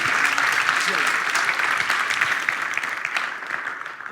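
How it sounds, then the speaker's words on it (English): An audience at a talk claps continuously, a dense even wash of applause throughout, with faint voices mixed underneath. "Clap your hands for Marc Aixalá."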